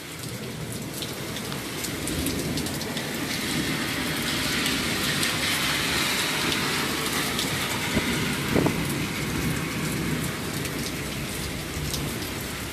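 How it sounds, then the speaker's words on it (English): Heavy rain on a stormy night pours steadily onto surfaces in a dense, continuous hiss with scattered close drips, and a low rumble of thunder or passing traffic sits underneath, with no speech. "it's a rainy, stormy night once again."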